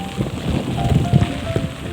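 Rain falls steadily during a rainy-season outing to trap fish, a continuous hiss with a few faint tonal sounds and soft low thumps, with no talk.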